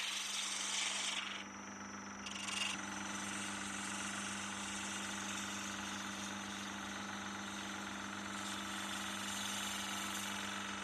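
A spindle gouge shaping a wooden handle on a spinning lathe, a loud continuous rasping, whirring cut over the motor's steady hum, briefly dipping near the start before running on evenly, no voices.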